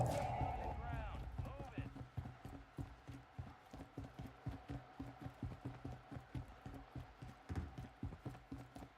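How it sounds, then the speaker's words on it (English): Rapid running footsteps thud across a bridge in a video game, a steady quick rhythm of close, fairly loud impacts, with a brief voice and a short tonal chirp at the very start. "Running across this bridge doesn't sound very safe"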